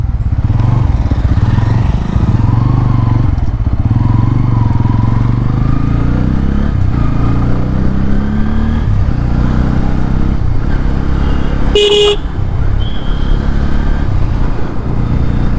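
A 2024 Bajaj Pulsar N160 BS6 is ridden steadily, its engine drone loud and continuous, rising and falling in pitch through gear changes, with wind noise over it.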